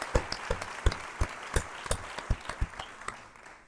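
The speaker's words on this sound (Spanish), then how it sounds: "un aplauso para la gente bonita que va a compartir este sábado aquí con nosotros" A few audience members at a book presentation in Portugalete clap, the sound thin and sparse: distinct individual claps at an uneven pace, loud at first and fading over nearly four seconds.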